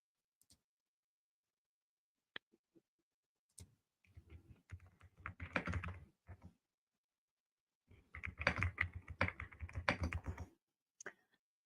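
Typing on a new computer keyboard: a few isolated key clicks, then two dense bursts of rapid, close clacking, with silence in between.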